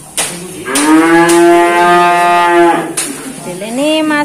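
Cattle moo loudly at a cattle dealer's yard, one long sustained bellow followed by a second rising moo, close and clear with no talk over it.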